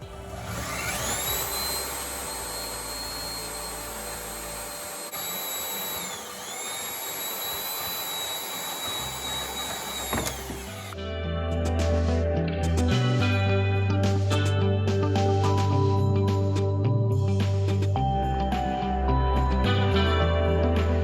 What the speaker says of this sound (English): I cut a piece of 3/4 steel pipe off at 5/8 of an inch.